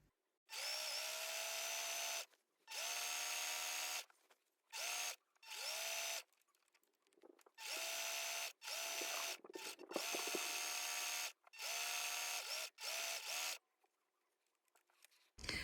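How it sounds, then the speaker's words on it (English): A sewing machine sews a patchwork fabric bow in a series of loud, steady whirring runs with short stops between them as the fabric is pivoted. "I'm just going to turn and pivot and then at 1/4 inch, sew up the rest of the side."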